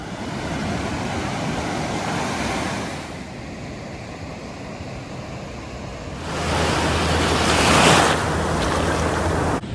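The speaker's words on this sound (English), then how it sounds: "as I'm sitting here on the beach in Santa Monica, the trip has now ended" Ocean surf on the beach at Santa Monica, a continuous broad wash of waves with wind, rising into a louder breaking swell in the second half.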